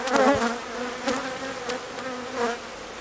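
A dense, steady drone of many honeybees buzzing close by at an open hive during frame inspection, with a few louder individual buzzes passing through; no voices.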